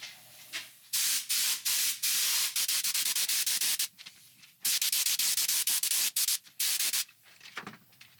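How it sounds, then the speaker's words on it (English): Spray gun painting a Porsche brake caliper, loud hissing bursts of a second or more in close succession with short pauses between, close to the microphone and no talking. "This spray gun sprays out a little finer than the spray can does."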